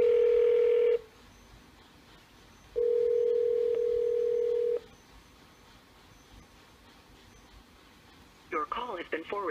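A Nortel 1120E IP phone places an outgoing call: two sustained tone bursts separated by a pause, then a short rapid series of dialing tones near the end.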